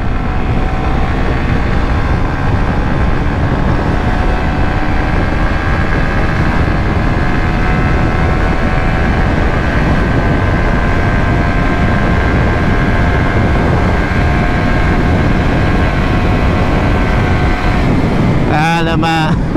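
Suzuki GSX-S150 motorcycle engine on a test ride, a steady loud drone with rising harmonic lines as it pulls, wind and road noise mixed in, and a brief burst of talk near the end.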